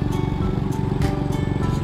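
A motorcycle engine runs close by on a road trip to Ban Rak Thai in northern Thailand, giving a steady, loud, buzzing drone that holds level throughout the short stretch.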